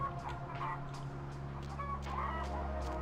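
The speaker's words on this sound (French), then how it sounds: "il y a des bruits de poulet" Chickens cluck repeatedly in a Chinatown scene of the video game Vampire the Masquerade Bloodlines, short bursts over a steady low ambient hum, moderately close and unaccompanied by speech.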